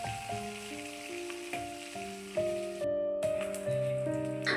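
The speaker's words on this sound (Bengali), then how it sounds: "মাছ আমার ভাজা হচ্ছে" Pabda fish frying in hot oil in a home kitchen, a steady soft sizzle under melodic background music.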